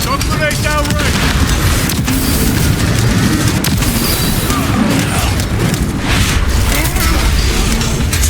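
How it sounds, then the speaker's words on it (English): A shock grenade goes off amid heavy combat in Warhammer 40000: Space Marine 2, with dense booms, bursts and gunfire packed loudly and continuously together. "Shock grenade downrange."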